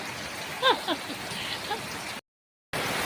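Constant rain patters on a tin roof with a bright, hissing texture, a few bird chirps break through, and the sound drops out briefly before resuming.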